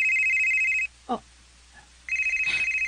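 A telephone rings with an incoming call: a loud, steady electronic trill that stops, then starts again after a brief gap, with a short voice sound between the rings.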